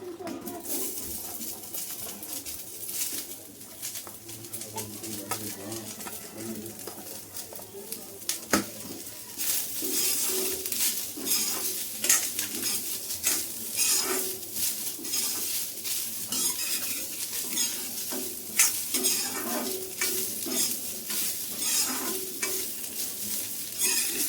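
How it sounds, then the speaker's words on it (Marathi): Garlic and onion roasting in a little oil in a pan for chicken sukka, a close, steady sizzle that grows noticeably louder partway through, with scattered scrapes and clinks of stirring and no speech. "आता आपल्याला त्याच्यात लसूण आणि हा कांदा भाजून घ्यायचा"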